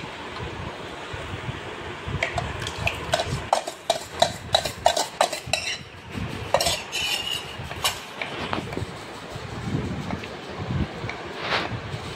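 A spoon stirs thick curd in a bowl, giving repeated scraping and clinking strokes against the dish, clearest in a busy middle stretch, with steady background hiss throughout.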